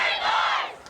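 The Morse girls lacrosse team shouts a cheer together at a varsity game. It is a short, loud burst of many young voices yelling in unison that fades at the end.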